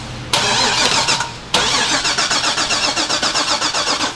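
A car engine on a build with a Corvette-type V8 swap cranks briefly, pauses, then cranks again and catches, settling into a loud, pulsing idle close by.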